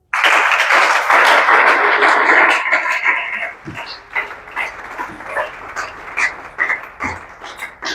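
A church congregation claps and cheers in a dense, loud burst of applause lasting about three seconds, then it thins into scattered claps and knocks over a low room hum.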